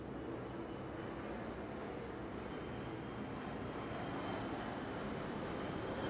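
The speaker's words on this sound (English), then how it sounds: "another plane going by" Airplane flying overhead: a faint, steady broadband rumble from a distance, holding level throughout with no other clear sounds.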